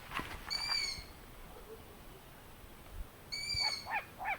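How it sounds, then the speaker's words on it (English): Long-eared owl calls, two separate bursts of clear, high pitched hoots with harmonics, spaced a few seconds apart against a quiet background. "And last one, our long-eared owl."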